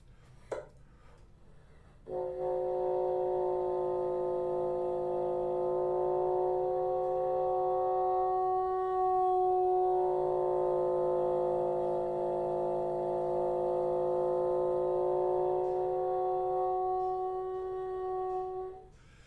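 A sustained wind-instrument multiphonic holds for many seconds, several overtones sounding together and shifting in strength as the note is shaped by the embouchure.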